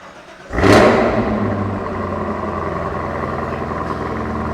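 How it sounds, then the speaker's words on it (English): Lingenfelter 720-horsepower Camaro engine catching and roaring up at once, then settling into a loud, steady, rumbling exhaust drone close by with no talking. "We'll let you hear the exhaust note on this Camaro."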